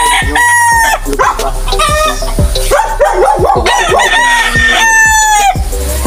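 Roosters at a game farm crow repeatedly and loudly, several birds overlapping near and far, with clucking fowl and an occasional dog bark mixed in.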